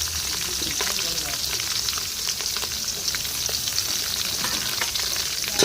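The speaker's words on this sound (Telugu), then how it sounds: "బాగా ఫ్రై చేసేసుకోవాలి ఉల్లిపాయ పచ్చిమిర్చి" Onion and green chillies frying hard in hot oil with curry leaves, giving a loud, steady, close crackling sizzle with scattered sharp pops across the whole stretch, no talking.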